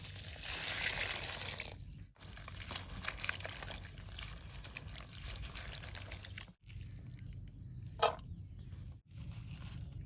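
Thinly sliced taro flowers being rinsed in water, with continuous pouring, sloshing and trickling close by, broken by a few brief pauses and a light splash.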